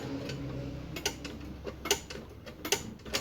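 The lever on a Troy-Bilt walk-behind self-propelled mower works its gearbox arm, producing a series of light mechanical clicks and ticks at close range, irregularly spaced over a low hum.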